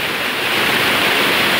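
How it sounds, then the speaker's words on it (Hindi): Waterfall in Dachigam wildlife sanctuary, a steady, loud, close roar of falling water that fills the short moment without a break and with no voices. "एक झरना है, बहुत ही ब्यूटीफुल है"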